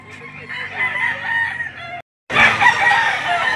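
At a poultry auction market a rooster crows close and loud, a long strained call, then after a brief gap a noisier stretch of crowing and clucking follows amid background bustle.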